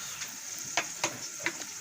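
Chicken and potato curry sizzles steadily in a pan while a spoon stirs it, scraping the pan in about four distinct strokes. The sound is close and moderately loud, with no voices.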